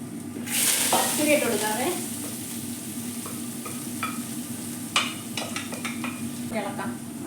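Mustard seeds drop into hot oil for a spinach stir-fry, giving a steady sizzle with sharp crackling pops that cluster near the end, while a voice talks briefly at the start.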